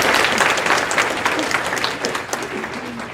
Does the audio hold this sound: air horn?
no